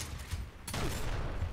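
Gunfire from the video game Gears of War, a burst of shots that starts abruptly partway through and carries on as steady, loud rattling fire, with no talk over it.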